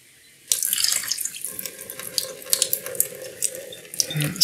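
After a brief quiet moment, liquid pours steadily while morning coffee is being made, a close, splashing, bubbling stream with small uneven surges and no talk over it.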